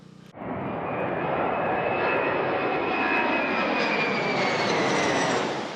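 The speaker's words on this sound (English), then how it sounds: "And C-130s dropping fire retardant, using Smith Neck Road as a containment line as the fire continues to blaze through the Tahoe National Forest" A C-130 aircraft roars overhead during a wildfire in the Tahoe National Forest, dropping fire retardant; the engine drone swells in suddenly and holds loud and steady, with a whining tone above the broad rumble.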